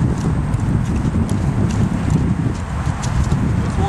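Horse hooves clip-clopping in an even walking rhythm as the horse is led around during groundwork before its first ride, close and clear with light wind in the background.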